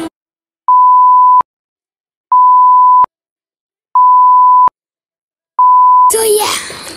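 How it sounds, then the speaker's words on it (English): Four loud steady censor beeps, each lasting under a second, sound at an even rhythm with silence between them, and a burst of speech breaks in right after the last one. "I can beep out some bad words"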